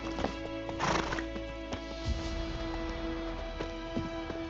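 A horse in The Witcher 3 video game clip-clops along, hooves thudding under a steady game soundscape, with a neigh-like burst early on and a faint voice briefly heard.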